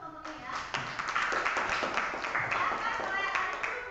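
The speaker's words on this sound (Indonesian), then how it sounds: "tepuk tangan dulu buat kelompok ini ya." Classroom clapping for a student group after their presentation on protists, a dense patter of hands with voices mixed in, steady and moderately near.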